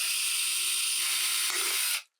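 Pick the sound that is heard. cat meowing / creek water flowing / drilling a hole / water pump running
drilling a hole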